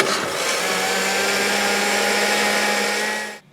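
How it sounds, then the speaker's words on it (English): Blender running continuously, whirring loudly and steadily as it blends aloe pieces with coconut water, stevia and ice, holding level for about three seconds before cutting off abruptly. "If you are using the iced pieces of aloe, you may have to turn the blender off"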